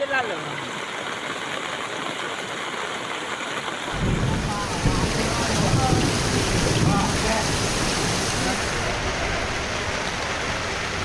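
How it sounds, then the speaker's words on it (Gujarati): Heavy torrential downpour pours steadily in Umarpada near Surat, a dense, continuous roar of rain that swells louder partway through, with no voices. "છ કલાકમાં જ ધોધમાર ચૌદ ઇંચ વરસાદ ખાબક્યો છે"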